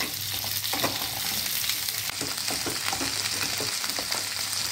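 Oil sizzles steadily in a pan as potatoes and pointed gourd fry together while a utensil scrapes and stirs, giving a close, continuous crackle with irregular clicks throughout.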